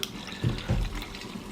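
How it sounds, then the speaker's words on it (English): Water is poured into a sugar-free lemonade beverage pouch from an MRE ration, heard as a short, close splashing pour with two louder gurgling bursts, no talk. "I'm gonna add the water to the line here."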